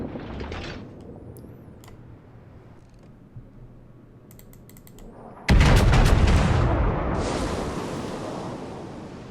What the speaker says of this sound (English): Cleveland's shooting at me.